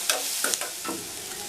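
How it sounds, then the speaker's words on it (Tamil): Onions sauté in a pan with a soft continuous sizzle and a few quick stirring scrapes, heard close and alone. "வெங்காயம் ஓரளவுக்கு நல்லா வதங்கிடுச்சு."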